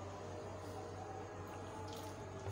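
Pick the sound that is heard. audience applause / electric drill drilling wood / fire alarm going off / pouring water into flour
pouring water into flour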